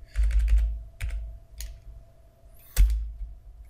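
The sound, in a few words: typing an IP address on a computer keyboard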